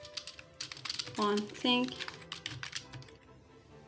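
Code being typed on a computer keyboard, a quick run of close key clicks with a brief spoken phrase in the middle.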